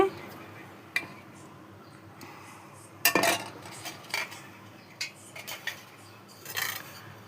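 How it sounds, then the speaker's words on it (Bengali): Steel cutlery and plates clink and scrape as rice is served onto a plate beside fried bitter gourd, potato, pumpkin and mung dal, with sparse, close clatters and a voice talking. "প্রথমে এখানে ভাতটা বেড়ে আমি গুছিয়ে নিচ্ছি"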